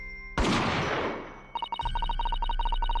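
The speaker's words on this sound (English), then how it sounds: "gunshot rang out from over his shoulder." A single loud gunshot in the video game Great Ace Attorney 2: a sharp blast with a long decaying tail, followed by a rapid series of clicking game sound effects.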